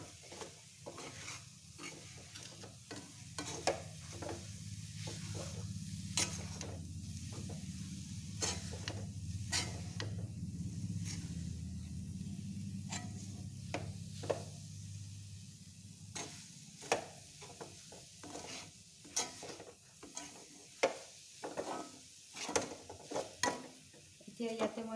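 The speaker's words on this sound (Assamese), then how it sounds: "বস্তুটো মিক্স হোৱালৈকে লৰাই থাকিব লাগিব, নাৰিকলৰ লগত যাতে এই বস্তুখিনি মিক্স হৈ যায়" A coconut and chickpea dal barfi mixture is stirred steadily in a pan, with a soft sizzle underneath and repeated scraping and clicking strokes of the spoon that grow sharper and more frequent toward the end.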